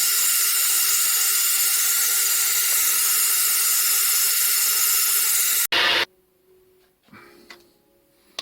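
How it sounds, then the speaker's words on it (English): A 3 mm drill bit bores through a valve stem with a steady, loud high-pitched whir for several seconds, then cuts off abruptly, followed by brief quieter mechanical clunks and handling noises. "I drill through the valve stem with a 3 mm drill"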